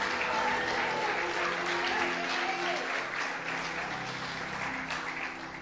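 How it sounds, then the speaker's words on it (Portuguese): A church congregation claps in sustained applause, dense and continuous, with a held musical tone and faint voices underneath, easing off slightly toward the end. "dá uma salva de palmas para Jesus"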